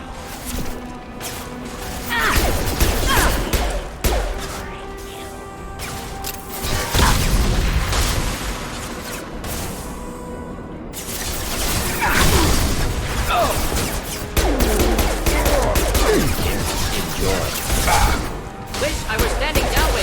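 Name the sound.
gunfire and crate explosions in video game Mass Effect 2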